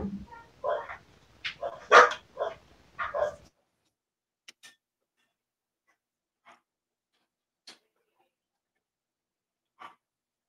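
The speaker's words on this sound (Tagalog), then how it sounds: "Ay, pasensya na sa aso." A dog barks in a quick burst of five or six loud, close barks, followed by a long quiet stretch broken only by a few faint, isolated clicks and knocks.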